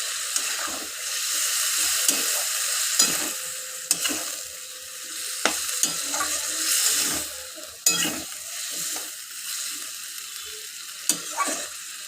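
A little water and ground tomato go into a sizzling pan of drumstick, potato and fish curry, a steady hiss with repeated scraping stirs and occasional clinks of the spoon against the pan, close, no talking.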